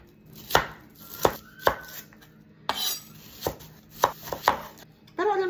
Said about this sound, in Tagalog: hanggang sa matapos akong maggayat ng mga sibuyas